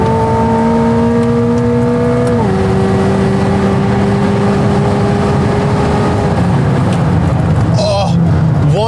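A Corvette C8 ZR1 engine drones loud and close on a racetrack in 102-degree heat, holding a steady high pitch before dropping and easing off, with a brief rev change near the end.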